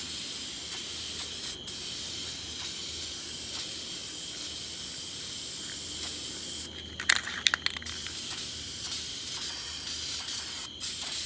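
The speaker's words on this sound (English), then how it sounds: "Make sure I'm downwind my spray painting." A steady spray-paint can hiss runs throughout outdoors, with a short burst of clicking rattles partway through.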